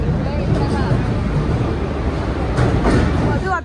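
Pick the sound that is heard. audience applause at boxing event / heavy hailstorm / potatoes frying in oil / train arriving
train arriving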